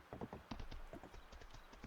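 Horse hooves clip-clop in a steady run of light, close footfalls as a rider moves across the farm in the game Fields of Mistria, with no talk over them.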